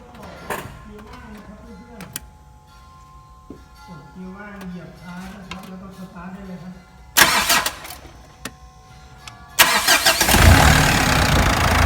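A Mitsubishi Triton with the 2.5-litre 4D56 diesel engine starts up after a fuel filter change, with a loud burst of cranking and catching near the end following quieter background sounds.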